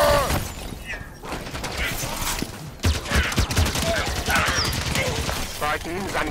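Mounted turret fire in the Halo 5: Guardians Sanghelios mission, a dense rattling fusillade of rapid shots mixed with mechanical clatter and battle noise, loud and continuous throughout, with voices shouting at times.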